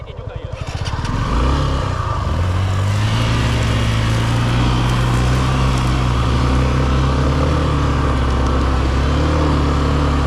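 A Suzuki V-Strom 250 SX motorcycle revs up from idle, its engine rising to a loud, steady droning roar under open throttle, close and continuous for the whole stretch.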